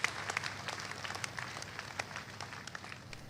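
Audience applause at a Christian testimony gathering, a dense patter of many hands clapping steadily at moderate distance, fairly quiet, with no speech over it.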